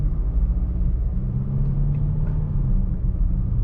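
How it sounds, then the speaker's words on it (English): A Range Rover Velar engine drones steadily from inside the cabin while driving, a loud, continuous low rumble with no breaks and no voices over it. "the engine can be a bit loud at times"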